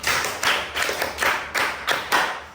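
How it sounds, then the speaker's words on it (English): Class of students clapping together in a rhythmic classroom cheer, roughly seven broad bursts in an even beat, close and fairly loud with no talk over it. "Clap for it."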